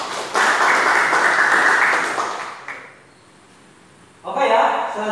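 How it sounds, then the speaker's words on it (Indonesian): A classroom audience gives a burst of applause for a student presenter, dense clapping for about two seconds that fades to quiet, then a second short round of clapping near the end. "Beri tepuk tangan untuk Mas Tegar"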